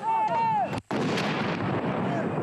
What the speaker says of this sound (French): devant les Invalides étaient tirés 21 coups de canon